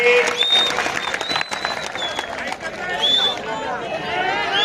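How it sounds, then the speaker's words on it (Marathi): Crowd clapping at an outdoor kusti wrestling bout in a village arena, loud dense applause and crowd noise under an announcer's amplified voice and whistle-like tones. "टाळ्या वाजवा जरा टाळ्या टाळ्या करा सर्वांनी"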